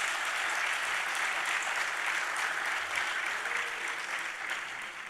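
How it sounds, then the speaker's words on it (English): Delegates at the opening ceremony of an African Union forum in Accra give sustained applause to honour women's contribution to peace, a broad, steady roar of clapping from a large hall that fades slightly at the end. "may I please ask all of us to raise our hands in applause"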